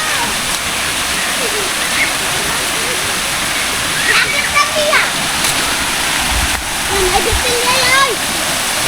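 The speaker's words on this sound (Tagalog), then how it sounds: "may tubig na malapit sa sementeryo" Water rushes and splashes continuously like a small waterfall or stream beside a public cemetery, loud and close, with voices, including a child's, talking over it.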